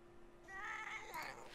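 A cat meows in a fantasy card game, a short bright call rising after a quiet start, fairly close and clear, with no talking over it.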